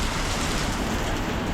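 Heavy rain pours down steadily in a street in Fuzhou, China, a dense, continuous hiss and roar filling the whole moment at close range with no voices over it.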